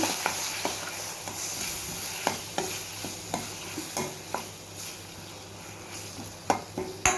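Coconut, onion and tomato for an egg curry fry with a soft sizzle in a pan, and a spoon scrapes and taps the pan again and again at an irregular pace.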